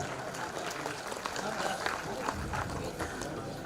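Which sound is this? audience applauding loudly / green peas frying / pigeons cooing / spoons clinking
audience applauding loudly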